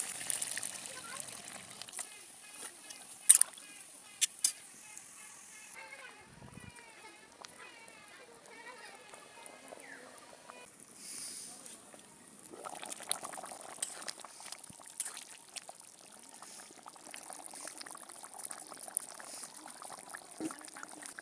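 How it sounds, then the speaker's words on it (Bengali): Water pours into a pan of potato and chicken curry, a faint liquid gush followed by low simmering under quiet talk. "এখন আমি দিয়ে দেবো এর ভিতরে ঝোলের পানি।"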